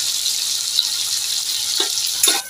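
Chopped onion and coriander sizzle steadily in hot oil as a tempering for cabbage and peas bhaji, a close, even crackling hiss with a few soft stirring knocks near the end.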